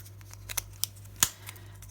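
Scissors snip through thin plastic in a few short, crisp clicks, close and quiet, spaced irregularly over a couple of seconds.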